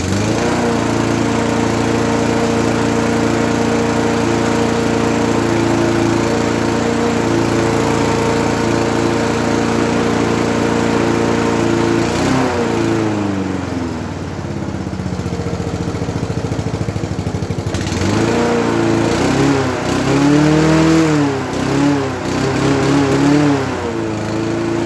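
A lawn mower with a Chinese-made small engine runs loud and close, holding a steady buzzing drone, then dipping and surging in pitch several times as the throttle changes.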